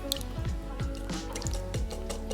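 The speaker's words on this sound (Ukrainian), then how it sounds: "Далі до сухих інгредієнтів вливаємо олію, молоко та додаємо яйця." Oil and milk poured into a bowl of dry chocolate cake ingredients (cocoa, soda, sugar), giving repeated soft liquid drips and squishy glugs in a steady rhythm, close and moderately loud with no talking.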